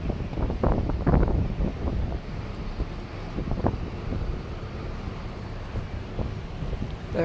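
Gusting wind buffets the microphone on a cold, windy day in downtown Halifax, with rough low rumbling bursts that ease into a steadier roar, with no voices heard.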